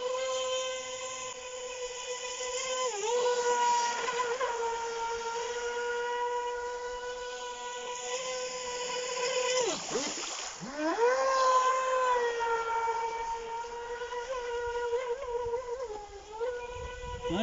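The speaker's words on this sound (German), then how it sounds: "Ein schnelles und günstiges Einsteiger-AC-Boot." A Feilun FT011 RC speedboat on a 4S lipo runs on a gravel-pit lake, its electric motor a steady high whine that rises and falls in pitch as it speeds and turns, with splashing in the middle.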